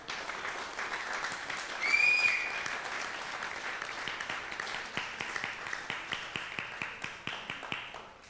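An audience applauds faintly at a church gathering. A brief burst gives way to a thinning patter that settles into slow, sparse, evenly spaced claps toward the end.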